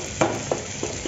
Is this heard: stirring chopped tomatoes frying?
yes